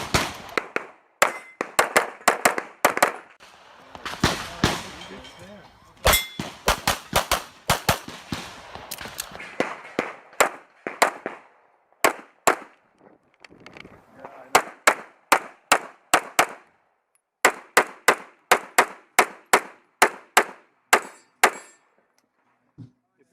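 Pistol shots crack out at a practical shooting match, sharp loud reports fired in quick strings and pairs with short pauses between bursts.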